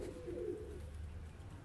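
Pigeons in a breeding loft coo softly, a low murmuring coo early on, then fading into a quiet, steady room hum with no talk.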